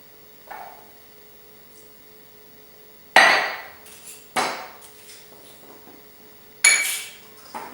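A spoon mixes brown rice and lime juice in a bowl, giving a few sharp clinks and scraping knocks against the bowl with quiet pauses between them.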